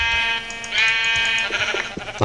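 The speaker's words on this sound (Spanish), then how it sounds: "¡Oveja!" A sheep in Minecraft gives a loud, close, wavering bleat lasting about a second, followed by faint game sounds.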